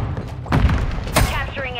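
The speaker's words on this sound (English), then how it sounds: "Stun grenade out!" A stun grenade thrown and detonating in Call of Duty MW3 gives two heavy, booming thuds about half a second apart, loud and close, over a dense game soundscape with a faint voice.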